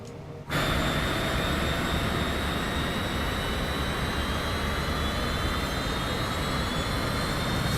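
Cessna Citation CJ4 business jet in a PC flight simulator game spooling up for takeoff, a loud steady jet engine roar with a high turbine whine that starts abruptly after a brief silence and holds constant throughout.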